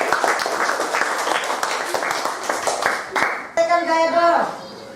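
Classroom clapping during a primary-school science lesson on forces, a burst of quick, close hand claps under a teacher's speech, giving way to children's voices near the end.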